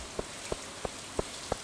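Rain falls steadily in Stardew Valley as a soft, even hiss, broken by five sharp, evenly spaced taps about a third of a second apart.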